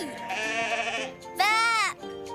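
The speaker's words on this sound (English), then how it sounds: "here are the sheep." Sheep bleat at close range on a farm, with a drawn-out wavering bleat followed by a sharper, louder one.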